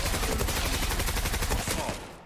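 Rapid sustained bursts of M468 rifle fire in the shooter game Zula, loud and continuous with a tight repeating rhythm that tapers off at the end.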